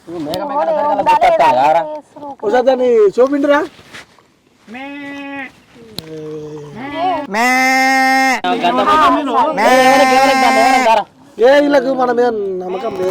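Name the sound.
goat bleating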